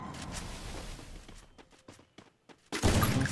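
Gunfire from a shooting video game in a friendly custom-room match: rapid bursts of shots and scattered single cracks, thinning into sparse isolated reports before a loud, dense burst erupts at the end.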